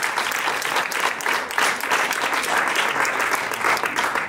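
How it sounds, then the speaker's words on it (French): Sustained, loud audience applause fills the hall at an award ceremony in Cannes, many hands clapping in a dense, continuous wash with slight swells and no speech on top. "je crois qu'on peut les applaudir très fort"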